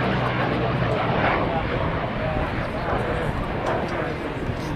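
Lockheed P-38 Lightning twin-engine fighter flying past at the Flying Legends 2011 airshow, a steady loud propeller-engine roar filling the whole stretch, with someone speaking over it.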